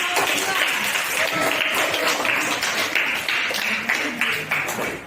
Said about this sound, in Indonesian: kasih aplaus dulu untuk